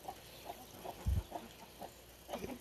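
Chickens cluck softly in a rural yard in the Peruvian Amazon rainforest, with scattered short calls spaced irregularly over quiet background and one brief low thump partway through.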